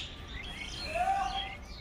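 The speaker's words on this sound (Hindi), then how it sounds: "यहाँ पे देखिए चिड़िया की आवाज़ कितनी प्यारी लग रही है" Birds chirping on a village farmhouse morning, faint high twittering calls over a low background hum, one brief clearer call in the middle.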